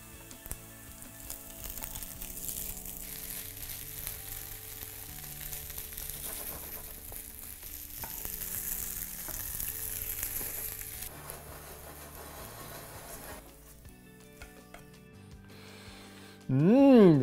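Vegan fish patties fry in a pan, a steady low sizzle running throughout with faint stirring or scraping, ending in a brief louder burst of sound.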